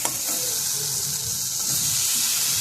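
Boiled taro stems (kochu loti) dropped into a hot pan for a Bengali dish, giving a steady broadband sizzle with some stirring and watery crackle, close and continuous with no talking.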